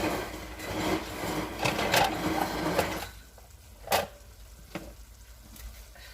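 Tomato-based sauce for Italian stuffed shells simmering and sizzling in a pan, a steady bubbling hiss that is busier in the first half and then quieter, broken by a few sharp clinks of a spoon, with no talking.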